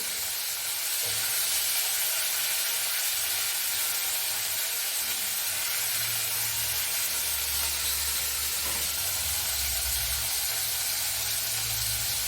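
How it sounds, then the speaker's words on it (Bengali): Fish frying in hot oil for a Bengali lau chingri recipe, a steady loud sizzle and hiss running throughout with faint stirring, no voices. "সমস্ত মাছগুলোকে এভাবে ভেজে নিই।"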